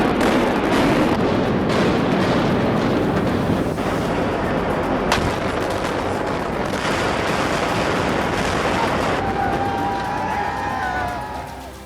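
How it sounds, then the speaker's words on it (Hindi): A tower is brought down with 360 pounds of explosives in a city, with 15 blocks evacuated, in 2006. A long, loud, heavy roaring rumble of collapse holds steady throughout and tapers off at the close. "360 पाउंड विस्फोटकों से कुछ ही सेकंड में टावर गिर गया।"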